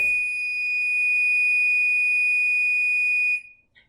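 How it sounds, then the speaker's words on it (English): A kitchen timer goes off during cake baking, sounding a loud, steady high-pitched electronic tone for over three seconds before cutting off abruptly. "That's my timer."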